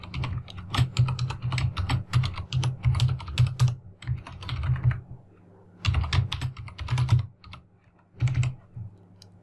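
Code is typed on a computer keyboard in quick, close bursts of clicking keystrokes, separated by short pauses, with no voices over the tapping.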